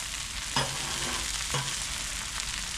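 Crab cakes frying on an outdoor griddle at a cold backyard cookout, a steady loud hiss of crisping with a couple of brief scrape or tap accents, no talking.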